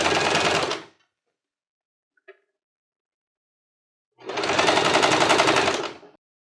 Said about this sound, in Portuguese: Aí sim você passa o pesponto.